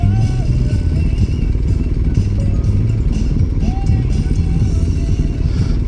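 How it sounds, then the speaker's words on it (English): A Harley-Davidson Road Glide motorcycle engine rumbles loud and close, a deep, steady, unbroken throb with faint clatter on top. "That's a nice road glide."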